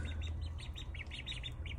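Young Indian runner ducklings chirp in a quick series of short, high peeps, about a dozen in under two seconds. A steady low hum runs underneath.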